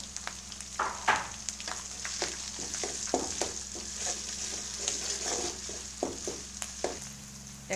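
Ginger and onion frying in oil for a home-cooked chicken roast, a steady soft sizzle with scattered scraping stirs throughout, close and moderately loud, no talking.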